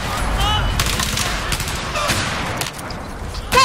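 Battlefield 4 gunfire from a USAS-12 shotgun mixed with other weapons: loud, dense bursts of rapid shots and booming reports filling the scene, one last sharp blast near the end.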